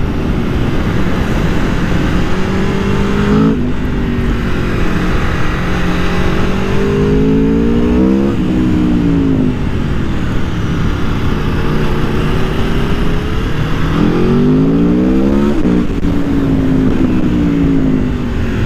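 Aprilia Tuono 1100 Factory motorcycle engine revving repeatedly, loud and close, its pitch climbing and falling in several sharp throttle blips over a steady rumbling idle, with no talk.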